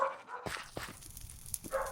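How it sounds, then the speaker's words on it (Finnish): A dog barking in the Java edition of Minecraft, several short muffled barks spread across two seconds, faint and somewhat distant amid low game ambience. "en tiedä kuuluuko tähän, mutta Tepsu haukkuu."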